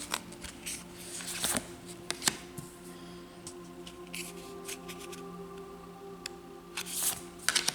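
Tarot-style reading cards are shuffled and laid out, giving soft riffling and slapping card sounds in quick bursts over a faint steady background hum, with no voices.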